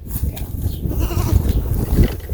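Goats on a small farm bleat up close in a short, noisy burst of overlapping calls set against rough background noise.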